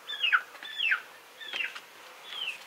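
Short, soft clucking calls from hens in a few separate bursts, high and slightly squeaky, quiet and at a distance.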